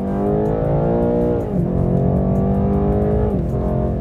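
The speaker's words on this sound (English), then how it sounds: "the sound of the car." A BMW M8 Competition's engine revs loud and close, with a strong harmonic drone that rises, dips at each gear change, and climbs again, with no talking.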